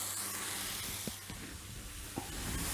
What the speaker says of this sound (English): Let's go ahead and get some bacon on here.